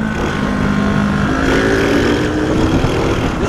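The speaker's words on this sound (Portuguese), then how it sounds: "O escapamento dele tá parecendo de lata, Rafa." A Chevrolet Monza car engine running loudly up close, its exhaust giving a thin, rattly, metallic drone that rises slightly in pitch as it revs.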